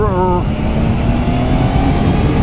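A Zontes 703RR (2025) motorcycle engine runs close by with a loud, steady, throaty rumble that holds a fairly constant pitch throughout.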